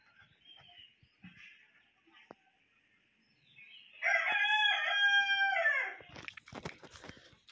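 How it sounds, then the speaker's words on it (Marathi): A rooster crows in the morning, one long, loud, close crow rising out of a quiet yard with faint bird chirps before it and rustling noise after. "सकाळी सकाळी कोंबडा ओरडत आहे."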